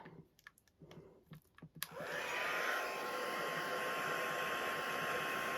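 A heat tool blows over damp stamped ink on a handmade thank-you card. A few light clicks and taps come first, then the tool switches on with a loud, steady whooshing roar that holds to the end.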